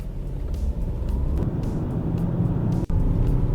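BMW X1 with a three-cylinder diesel and 7DCT robotized gearbox accelerating flat out on a slippery road, a steady loud low engine drone with road rumble and a brief dropout near the end, no talk.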